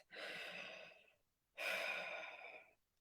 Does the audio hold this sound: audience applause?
no